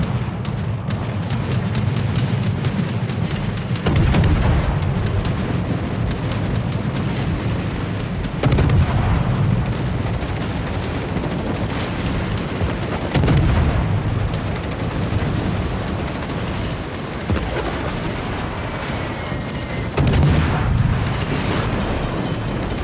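Warship guns firing in World of Warships during a tense naval battle, with deep repeated booming salvos every few seconds over a continuous low rumble of battle noise, loud and close.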